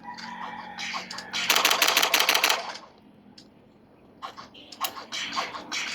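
Video game gunfire comes as a dense, loud burst of rapid shots lasting about a second, then goes quiet and returns as a few scattered shorter shots, with no voices over it.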